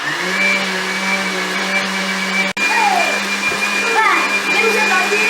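Kitchen blender whirring steadily while mixing ingredients for homemade yogurt, loud and close with a constant motor drone and a brief cutout midway; a voice is faintly audible over it.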